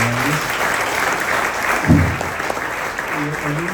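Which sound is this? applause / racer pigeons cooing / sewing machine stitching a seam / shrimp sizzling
applause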